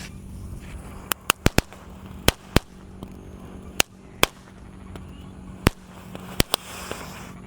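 Sharp firecracker bangs pop irregularly, a dozen or so sudden cracks over a low background hiss, from tank-shaped firecrackers set off at night during Ramadan.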